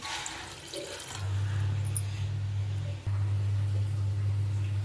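Water poured into a pot of tamarind fish curry, a steady low pouring rush that starts after a second and runs continuously, close and fairly loud, with a brief break near the end.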